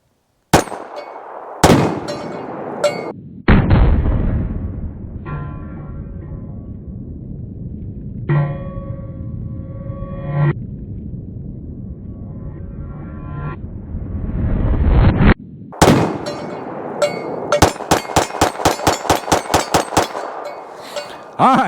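A Taurus TX22 Compact pistol is fired at range targets. Sharp shots ring against steel with clangs and long metallic rings in between, ending in a fast string of about a dozen rapid shots, loud and close.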